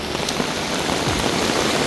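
Heavy monsoon downpour in Haridwar, drumming steadily and loudly across the ground and surfaces with no break, a dense hiss of rain that fills the whole moment, with no voices.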